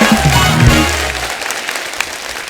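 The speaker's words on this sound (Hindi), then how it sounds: "जोरदार ताली हो जाए।" Studio audience at a Hindi comedy talk show breaks into applause, clapping rising under a brief musical sting at the start and continuing as a steady patter.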